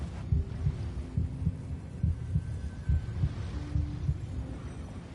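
A steady heartbeat in the Genshin Impact video game: soft, low double thumps repeat at an even pace over a faint droning hum, with no talking.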